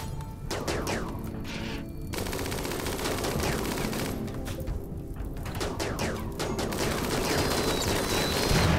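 Colonists trade gunfire in RimWorld Alpha 13, a loud, dense burst of rapid automatic shots and crackling volleys that continues almost without pause, with some crashing impacts.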